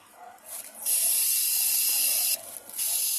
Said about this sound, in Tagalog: tapos i-spray ko lang to.